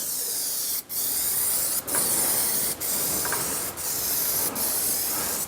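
Aerosol spray paint laid as a light first coat on a warmed car prop shaft from a Jaguar XKR, with five steady hissing bursts, each a few seconds long and split by short pauses. The hiss is close and fairly loud, and nobody speaks.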